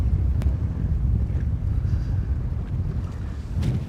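Gusty wind buffets the microphone out on the water during bass fishing, a heavy low rumble that swells and eases steadily, with no voices heard.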